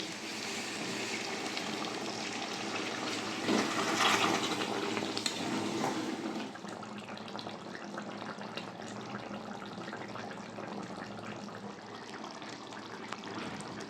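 Hot water poured into a pan of chicken curry with potatoes, a loud rushing splash for about six seconds, followed by a softer steady bubbling hiss as the liquid settles and simmers.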